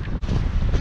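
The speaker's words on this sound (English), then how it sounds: "I love that wind" Wind gusting outdoors near a town monument in Arcola, Illinois, a steady broadband rush buffeting the microphone for the whole stretch, with only a brief lull partway through.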